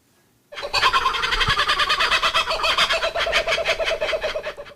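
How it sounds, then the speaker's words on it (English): Laughing call of an Australian kookaburra: a loud, continuous, rhythmic cackling chorus that bursts in after a quiet moment and rolls on for about four seconds with no talking. "you just heard the laugh of the kookaburra, an Aussie icon loved by all"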